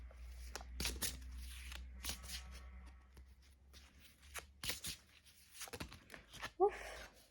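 Tarot cards shuffled and drawn, giving repeated soft riffling and slapping bursts with brief papery flicks, close and moderately quiet, ending in a short sharp snap near the end.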